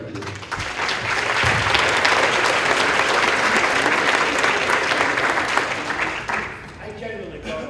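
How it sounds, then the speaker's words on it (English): Sustained applause from an audience at a town meeting, steady dense clapping that swells and holds for several seconds before tapering off near the end. "I generally don't allow a lot of clapping like Mr. Bartlett did, but I'll allow that."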